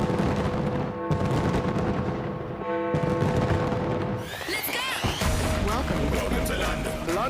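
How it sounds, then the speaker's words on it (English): Rapid crackling bursts of New Year fireworks in London popping and booming in dense succession, followed by whistling, fizzing streaks over a loud crowd-like roar. "England welcomed the new year with picturesque light shows and fireworks"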